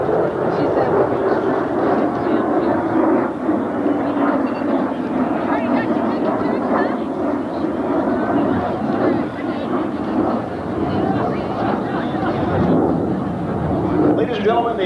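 F-15 and F-16 fighter jets flying a demonstration at an air show at Edwards AFB, a continuous loud roaring rumble of jet engines sustained throughout, distant yet dominant.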